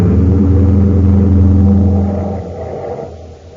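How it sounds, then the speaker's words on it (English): A car engine sound effect in a 1953 science-fiction radio drama, a loud, steady low rumbling drone that eases off and fades over the last second, with no talk over it. "I'll follow as soon as I head the car right for that fuel tank."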